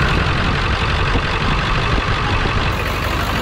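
A 7.3 Powerstroke diesel truck engine cranking and catching, a loud, dense, rough low rumble that runs steadily throughout, close up and with no talk over it.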